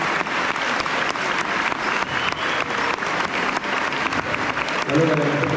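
Loud, sustained audience applause for capoeira masters at a festival, dense clapping filling the whole stretch, with a voice and music surfacing near the end.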